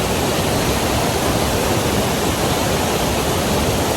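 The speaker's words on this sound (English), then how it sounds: "I'm going to go for a little explore down the waterfall here" Water crashes down Fishery Falls, a waterfall along a Queensland walking trail, in a loud, close, continuous roar with no break and no voices.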